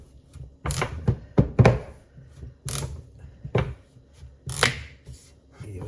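A knife hacks through a giant squash on a cutting board, giving several loud, close, irregular chops and thunks spaced across a few seconds, with quieter scraping between blows.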